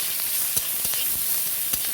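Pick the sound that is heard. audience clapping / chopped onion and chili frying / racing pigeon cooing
chopped onion and chili frying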